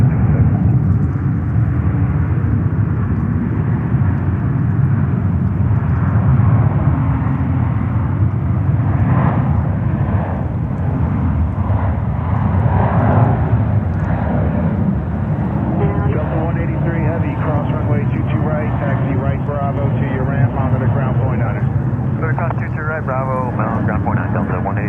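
Korean Air A380 jet engines roaring steadily on the runway at JFK, a continuous loud rumble that runs throughout with tower radio talk over it.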